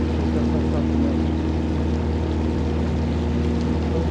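A river cruise boat's engine drones steadily through Cataract Gorge, with water rushing alongside the hull; the rumble stays loud and constant, and no voices are heard.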